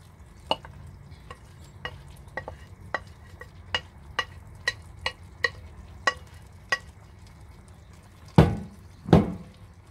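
A spoon scrapes and clinks around a pot as canned red beans, corn and tomatoes are stirred into taco soup, cooked at a camp in a cargo trailer: a steady series of light taps, then two heavier clunks near the end.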